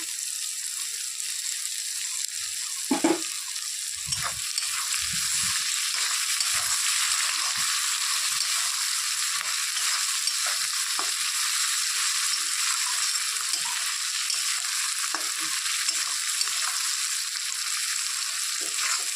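Steady, bright sizzling of dried fish frying in a pan throughout, with a few soft scraping and stirring knocks early on, no voices.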